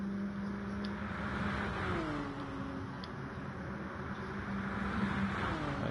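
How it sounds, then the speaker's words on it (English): Several racing car engines in the GTI Cup race video game hum and whine steadily, with pitch sweeping up and down as the pack runs together, a continuous mid-level drone without talk. "And we got a gaggle of cars here with Spenhouse Oh, Huey, PJ Mac, oh, Chompy,"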